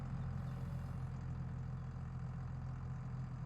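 Steady low rumble of a tractor engine idling on a farm in a farming video game, continuous and moderately loud with a deep droning hum and no talk.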